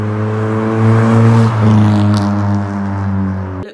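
A Honda car's exhaust drones loud and close with a deep steady tone, rising briefly in a rev before settling and cutting off abruptly.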